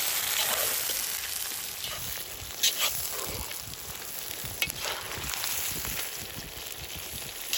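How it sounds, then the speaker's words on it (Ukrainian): Steady sizzling of onions frying in a cauldron, a constant hiss with occasional stirring clatters, no voices. "І поки смажиться наша цибуля"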